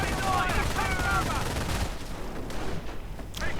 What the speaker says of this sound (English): Troops going down, getting sniped, getting run off.